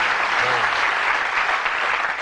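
Studio audience on a darts game show applauds steadily, a dense wash of many hands clapping close and loud throughout, with a brief faint voice low underneath.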